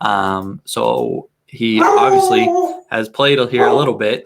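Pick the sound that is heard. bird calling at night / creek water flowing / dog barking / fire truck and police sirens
dog barking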